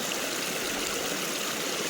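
Water in a natural stream flows and trickles in a steady, soft, continuous rush, fairly faint and even, with no voices over it.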